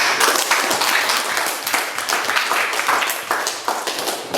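A class of students claps steadily together for several seconds, dense and fairly loud with no voices.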